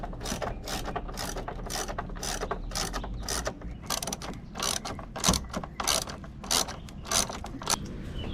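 A hand ratchet removes bolts from a Jeep JL fender, giving repeated rapid clicking bursts in a steady back-and-forth rhythm, close and clear, with no talking.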